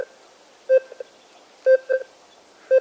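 An Alter 71 metal detector held over bog iron ore gives short electronic beeps, some coming as quick double tones, spaced apart against a quiet background.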